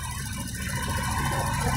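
A Motorstar motorcycle with rear disc brakes and an LCD display runs quietly with little vibration, a steady, even engine hum close by with no talk over it.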